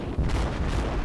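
Naval guns on a Cleveland-class cruiser in World of Warships boom in a deep, rumbling burst that lasts about a second, loud and close, with no voices.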